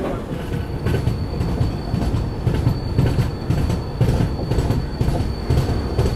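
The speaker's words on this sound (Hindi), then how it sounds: "ट्रेन अपनी यहाँ से निकल चुकी है।" The 12257 Bangalore–Kochuveli Garib Rath Express rolls out of a station, a steady rumble with rhythmic clickety-clack of wheels over rail joints and faint wheel squeal, heard from on board with no talking.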